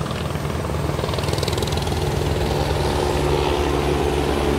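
A helicopter with spray tanks on both sides flies over an island area, its rotor chopping and engine droning loud and continuous.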